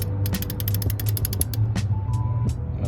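Torque wrench set to 60 tightening a car lug nut with a special socket, a fast run of sharp ratcheting clicks followed by a few slower, spaced clicks, close and fairly quiet.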